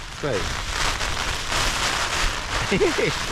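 Rain pattering steadily on a DCF (Dyneema) tent during wild camping, a dense continuous hiss filling the whole clip, with brief faint vocal sounds near the start and end.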